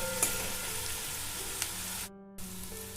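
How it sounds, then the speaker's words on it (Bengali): Grated onion fries in a pan in a steady, close sizzle that drops out briefly before resuming, with no voices. "গ্রেট করা পেঁয়াজটা আমার ভাজা হয়ে গেছে"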